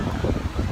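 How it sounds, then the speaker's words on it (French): Strong wind buffets the microphone on a crowded, windy beach in Vietnam, a steady loud rumbling roar with surf mixed in, no talk. "Il y a pas mal de vent donc il y a des gros rouleaux."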